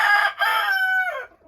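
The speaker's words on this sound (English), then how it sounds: "Looks like I got a couple roosters in that batch." A young rooster from a mixed batch of chickens crows once nearby, a strained and slightly broken call that trails off after about a second.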